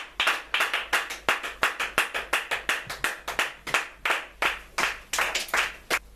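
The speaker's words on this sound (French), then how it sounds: "Acclamons l'éternel Dieu." A church congregation claps together in acclaim of God, a steady run of about thirty sharp, evenly spaced hand claps in a brisk rhythm, close and clear, with no speech over them.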